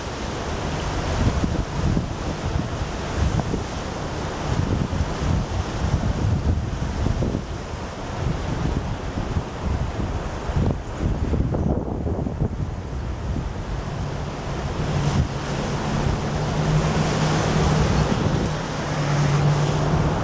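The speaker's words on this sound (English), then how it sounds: "Let me stop talking so you can hear the sounds of the river." Loud continuous rush of fast-flowing river rapids in Grand Rapids, Michigan, broad and churning, with gusts of wind buffeting the microphone and no talking.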